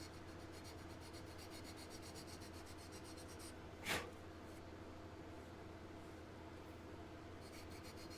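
Someone hand-sands a model car body, making faint, steady rhythmic rasping strokes with one sharper scrape midway, close up and without talk.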